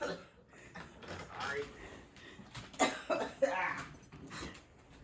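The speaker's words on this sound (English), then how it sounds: "You can cough." A woman coughs a few times in short, harsh bursts close by during a casual conversation, with talking around the coughs.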